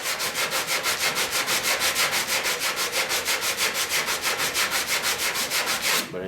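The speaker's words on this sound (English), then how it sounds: "Now I'm able to sand that aggressively to make it flat under there because that's the back." Hand sanding of the wooden underside of a platform bed, a close rhythmic rasping with even back-and-forth strokes, roughly five per second, with no talking.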